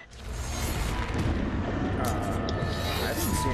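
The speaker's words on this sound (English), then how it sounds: "Why are they shooting at us?" Gunfire and booming blasts from the video game Saints Row: Gat Out of Hell, a dense, continuous barrage of shots and explosions with rumbling low end, loud throughout.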